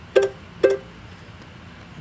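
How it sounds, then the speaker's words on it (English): Two short plucked mandolin notes from a software loop in Logic, bright and close, each ringing briefly before fading, with a quiet gap and faint background hiss after. "let's say I want to write a song and I want to involve mandolin."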